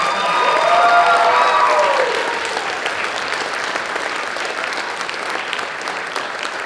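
Applause from a high school fall concert audience, loud and dense at first, then settling into softer sustained clapping with a few cheers mixed in.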